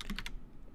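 A few quick keystrokes tap on a computer keyboard, close and fairly quiet, followed by a brief pause.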